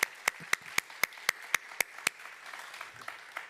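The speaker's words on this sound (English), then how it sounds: "a round of applause for both Chris Jones and Linda Miller" At a university service awards ceremony, crisp, evenly spaced claps ring out fairly faintly for about two seconds, then fade into scattered softer clapping.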